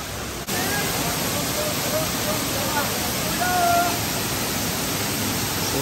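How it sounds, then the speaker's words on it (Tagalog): Daranak Falls, a waterfall in Tanay, Rizal, Philippines, pours as a steady broadband roar that fills the whole clip at close range, with faint voices mixed under the rush of water. "Ito na yung waterfalls, Darana Falls, ayan."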